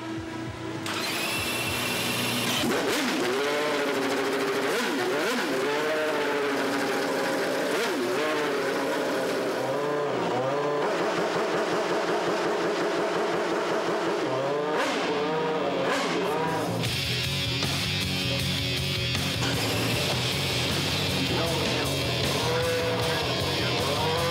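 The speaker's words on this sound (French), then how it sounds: "un cœur qui bat à plus de 800 chevaux, un moteur de Formule 1" A Renault Espace F1 minivan carrying a Formula 1 engine of over 800 horsepower screams close and loud, with rising and falling high-pitched revs, gear changes and sharp bursts, then a harsher full-throttle roar near the end.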